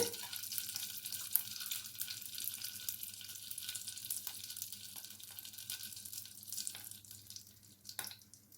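Soft, steady frying sizzle of about two spoons of ghee in a pan, a faint continuous crackle with occasional small pops, no talking.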